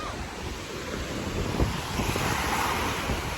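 Ocean waves wash steadily onto a beach, a broad continuous roar with a swell near the middle, mixed with wind buffeting the microphone.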